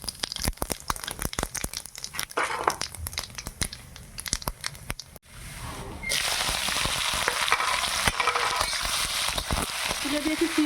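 Sliced onions fry in a pan as the base for a meat curry. Crackling and rustling give way halfway through to a steady, close, loud sizzle, with little talk.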